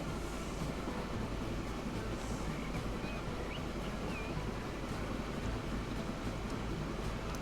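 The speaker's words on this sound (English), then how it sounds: "Let's get back on the train." Train running in the Transport Fever video game, a steady rumbling roll with a washing, wave-like hiss that holds at even loudness for several seconds, with no voices.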